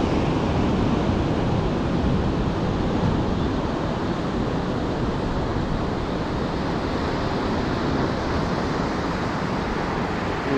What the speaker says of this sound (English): This is the Palolem beach